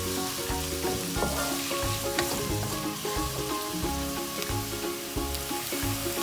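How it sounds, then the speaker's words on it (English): Chopped onions sauté on high heat in a pan for anda keema, giving a steady close sizzle and crackle with occasional stirring scrapes, running continuously with no talking. "Turn the heat to high and saute it really well."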